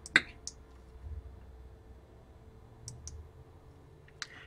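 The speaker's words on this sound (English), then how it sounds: "And now we can click the consult transfer button." Several sharp, faint mouse clicks on a desk while operating a Skype for Business attendant console: one near the start, another shortly after, a pair near the middle and a last one near the end, with quiet room hum between.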